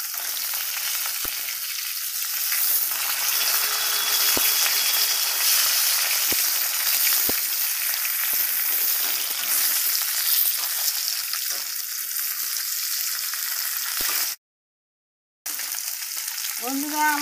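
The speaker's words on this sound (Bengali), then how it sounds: "তেলাপিয়া মাছ একটু লাল লাল করে না ভাজলে, সময় ধরে না ভাজলে ভালো লাগে না" Tilapia frying in hot oil in a pan, giving a loud, continuous sizzle with occasional clicks and scrapes from stirring, and a brief silent gap near the end before the crackling resumes.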